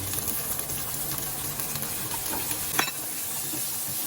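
Shrimp reheating in a pan of ketchup sauce, a steady wet sizzle with stirring scrapes and a sharp clink partway through.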